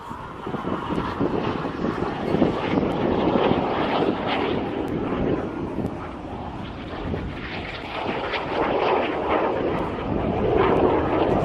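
Red Arrows jets fly a display at the Bournemouth Air Festival, giving a continuous broad roar of engines that swells and fades, with some wind buffeting on the microphone.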